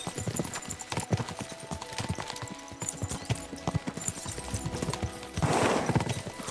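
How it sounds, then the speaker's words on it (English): Horses' hooves clip-clop steadily in Kingdom Come: Deliverance 2, a brisk rhythmic trot with rustling and a brief whinny-like burst near the end. "We should spur the horses on!"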